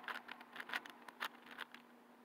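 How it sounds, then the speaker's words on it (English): Rain patters faintly close by in irregular light taps and soft clicks over a quiet background with a faint steady hum, and no one speaks. "Most of you probably could tell, it's raining."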